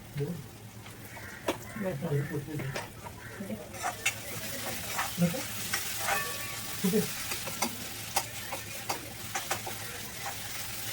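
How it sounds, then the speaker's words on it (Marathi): Keema gravy sizzles in a pan and is stirred repeatedly, making close scraping knocks over a continuous frying hiss, with voices faintly in the background. "पूर्ण ग्रेव्ही मिक्स करून द्यायची"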